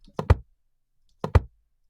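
Two quick double clacks of household plastic and metal as a middle-frequency gunshot sound-design layer, each a pair of sharp knocks, spaced about a second apart in otherwise silent surroundings.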